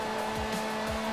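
A car engine drones steadily while tires squeal in short repeated bursts as a car drifts through turns at Hockenheim in the racing game Forza Motorsport.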